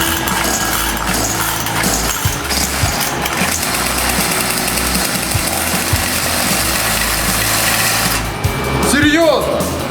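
A chainsaw engine running on homemade fuel distilled from crude oil runs continuously at close range, a loud rough buzzing drone that stays steady and rises in pitch briefly near the end.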